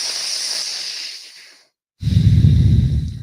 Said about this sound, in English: These last 3, make them the deepest, fastest breaths yet